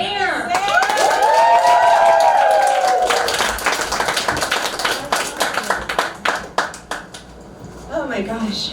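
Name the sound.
comedy club audience applause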